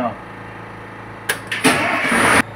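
A generator engine is started during a weekly check: after a quiet stretch, two short cranking bursts lead into the engine catching and running loud and steady for the last second.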